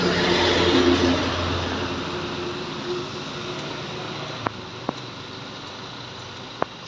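A Scania K410IB coach engine builds steadily under acceleration, a broad continuous roar with road and wind noise, joined near the end by a few sharp clicks.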